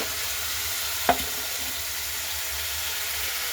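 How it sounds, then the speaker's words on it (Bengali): Onions frying in oil in a pan for a deem palong (egg and spinach) curry give a steady, close sizzling hiss throughout, with one sharp clatter of a utensil near the middle. "আমি একবার এটা পেঁয়াজটা ভেজে নিচ্ছি"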